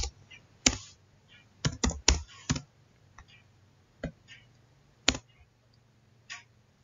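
Keys on a computer keyboard are tapped while an IP address is typed, giving sparse, quiet clicks in short bursts with pauses between them, close up and alone.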